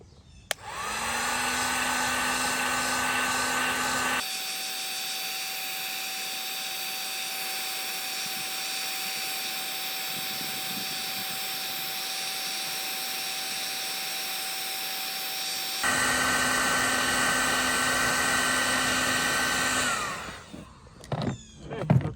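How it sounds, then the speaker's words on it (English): A handheld heat gun blowing steadily for about twenty seconds, a loud constant whir and rush of air that shifts pitch and level partway through and cuts off near the end with some handling clatter. "All right, heat gun time, my favorite part."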